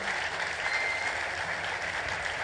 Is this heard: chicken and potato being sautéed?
no